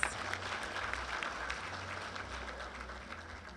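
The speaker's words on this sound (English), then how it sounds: "I would request that we give them a round of applause." Steady applause from a crowd at an awards ceremony, dense and continuous at an even level throughout, with no voices breaking through.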